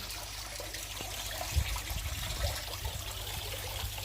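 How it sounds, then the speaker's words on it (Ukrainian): Water in a small garden pond with flowering water lilies trickles gently and steadily, a faint, close murmur with a few soft splashes and no talk. "тут водичка у нас, озерце наше, заквітла німфея"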